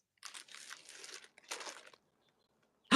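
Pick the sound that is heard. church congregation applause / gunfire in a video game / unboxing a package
unboxing a package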